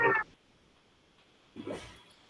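Two short meows from a cat or cat-like sound effect in a Spanish-language programming class demo, one loud at the start and a softer one after a pause of near silence.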